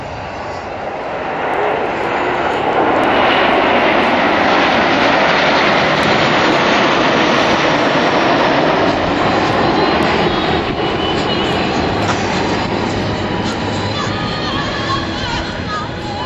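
Alpha Jet of the Patrouille de France flying a display at Saint-Brevin-les-Pins in 2004, a steady, loud broadband jet roar sustained throughout with no talk over it.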